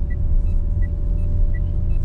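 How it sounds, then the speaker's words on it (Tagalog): A car climbs uphill on Marcos Highway toward Baguio City, its engine droning in a loud, constant low rumble with a faint steady whine and occasional soft chirps inside the cabin. "Ba't nakaugong ang makina? Paahon eh."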